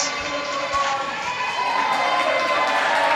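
Crowd at a Ninja vs. Ninja elite division ninja race cheering and shouting as the host pumps them up, a steady loud roar of voices with some whoops and yells throughout.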